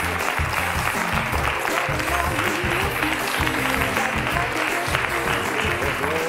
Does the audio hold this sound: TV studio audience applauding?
yes